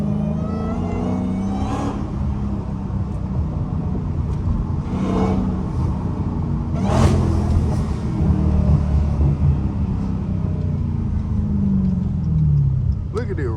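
A Dodge Hellcat rumbles in a deep, steady drone from inside the car while driving, swelling with a few brief revs on a rough road.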